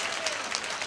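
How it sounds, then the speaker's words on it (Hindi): Audience clapping at an All India Mushaira poetry gathering in Nanded, a brief burst of dense applause. "आप तालियां बजाते रहिए।"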